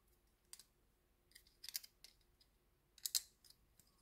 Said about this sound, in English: You have to press this plastic to eject it.